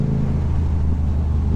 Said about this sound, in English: put the exhaust on this thing, and it is so loud